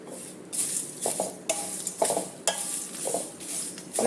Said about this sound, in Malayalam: ഫ്ലെയിം കുറച്ച് വെച്ച് കരിഞ്ഞു പോകാതെ വറുത്ത് എടുത്തിട്ടുണ്ട്